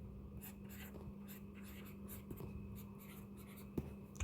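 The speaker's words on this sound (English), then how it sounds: "So we can start sketching." Marker or chalk strokes sketching an organic chemistry structure on a board during an alkene naming lesson, a steady run of soft scratchy writing with a low hum beneath and a couple of taps near the end.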